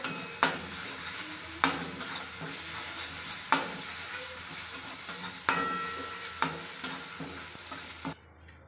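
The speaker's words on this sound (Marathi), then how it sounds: "याचा कच्चेपणा जाईपर्यंत आपण हे परतून घेऊया।" Ginger-garlic paste sautés in hot oil for egg bhurji, a steady close sizzle punctuated by regular scraping strokes of a spatula against the pan, ending with a sudden cutoff.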